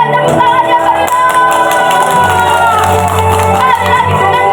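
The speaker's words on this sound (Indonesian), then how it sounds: "Berikan tepuk tangan yang meriah." A theatre festival audience bursts into loud, sustained applause with cheering, whoops and shouts, a dense crowd roar mixed with music-like tones that stays full and close throughout.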